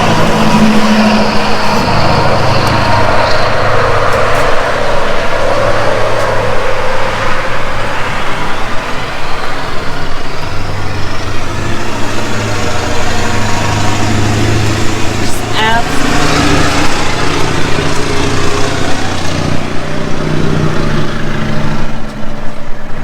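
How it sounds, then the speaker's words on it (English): A 1964 Buick Riviera engine revs hard and loud up close, its roar rising and falling over repeated throttle blips for the whole stretch, with a voice talking over it. "You hear gassing her up? I'm giving it the Vice Grip Garage Italian tune-up"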